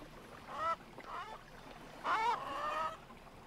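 Chickens in the survival video game Keep Up Survival give a few honking, squawking calls in short bursts, fairly faint over a quiet background.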